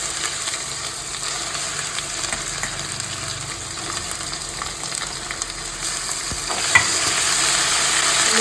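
Fish and onions frying in a pan of hot oil for a fish curry, a steady dense sizzle with occasional stirring scrapes, close and continuous throughout.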